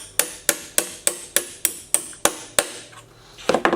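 A hammer strikes a rivet through a washer on a trunk, nine sharp, evenly spaced metallic blows ringing close and loud, then a short pause before a few quicker taps.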